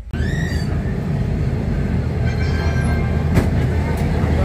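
Rajdhani Express train rolling into Kanpur Central station at night, a loud continuous rumble and rattle heard from inside the coach, steady throughout with a brief sharp clank midway.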